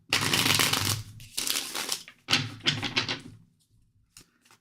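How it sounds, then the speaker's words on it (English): Reading cards being shuffled by hand: two dense bursts of riffling and rustling, then a third, followed by a few faint soft taps, close and fairly loud, with no speech. "Let's shuffle."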